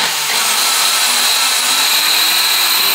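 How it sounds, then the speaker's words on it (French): Steady, loud, high-pitched whine of a power drill boring a hole into a bottle, running continuously and close up with no pauses. "Et du coup, là, faut percer sur la bouteille."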